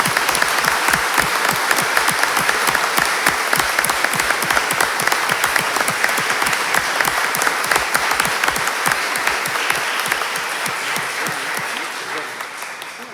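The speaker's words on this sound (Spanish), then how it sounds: "Podemos aplaudir este logro." A large audience at a lawyers' swearing-in ceremony before the Supreme Court claps loudly and steadily in sustained applause that gradually tapers toward the end.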